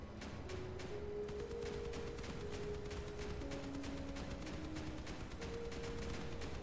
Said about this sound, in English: In fact, the cord is shooting from this distance.